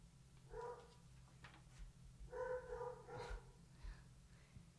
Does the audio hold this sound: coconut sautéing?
no